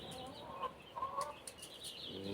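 Young chicks and hens cluck and chirp softly in short bursts at a farm beside the Ganges, fairly close but quiet.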